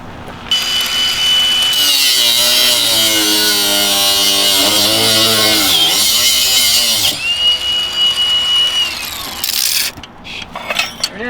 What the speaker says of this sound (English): I think you just destroyed the cutoff wheel.